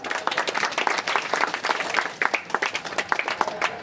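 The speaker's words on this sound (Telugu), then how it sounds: "గట్టిగా చప్పట్లు కొట్టి" An audience applauding together, with dense, fairly faint clapping that holds steady and stays slightly distant, and no voices over it.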